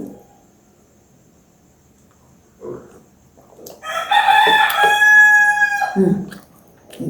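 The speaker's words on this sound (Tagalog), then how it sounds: "Yan yung mga manok." A rooster crows loudly and nearby, preceded by a few soft clucks, in an otherwise quiet setting.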